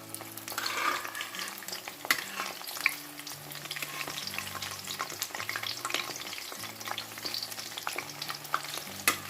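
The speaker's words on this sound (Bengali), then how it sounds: "সব বড়াগুলোকে একবারে তেলের মধ্যে ছেড়ে দিয়েছি" Bora fritters deep frying together in hot oil, a steady crackling sizzle with scattered sharp pops and a faint low hum underneath, close and continuous with no talking.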